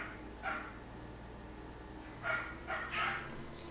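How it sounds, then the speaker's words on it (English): A few faint barks from a dog somewhere in the room, two or three brief sharp yelps spaced out over a low background hum. "ignore the dogs"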